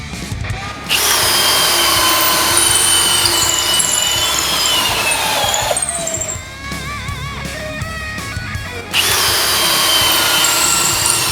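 A top-rated Thai cordless drill bores into wood with a steady, high-pitched whirring that runs for several seconds, dips briefly as the bit bites and strains, then surges loudly again, with no voices.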